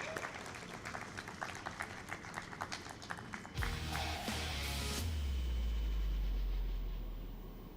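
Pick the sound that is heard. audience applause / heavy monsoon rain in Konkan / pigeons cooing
audience applause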